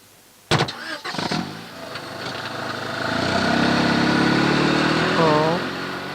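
A car engine starts with a sharp thump and a sputter, then settles into a rising, steady engine drone as the vehicle pulls away, with voices faintly mixed in.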